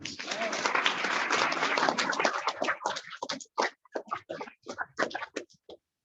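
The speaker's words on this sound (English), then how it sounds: "Please give him a round of applause." A Rotary Club meeting crowd applauds an honoree, dense clapping at first that thins into scattered individual claps and then stops.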